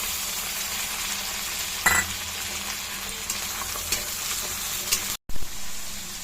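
Chopped tomato pieces hit a hot pan of frying spices, giving a steady close sizzle with a sharper burst near the start and a brief clink of a utensil, with no voices.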